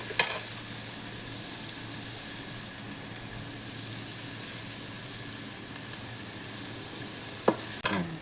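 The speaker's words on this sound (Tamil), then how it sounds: "இஞ்சி பூண்டு பேஸ்ட் போட்டுக்கணும்." Ginger-garlic paste sizzles steadily in a hot pan while it is stirred, with a constant hiss and a couple of sharp utensil clacks near the end.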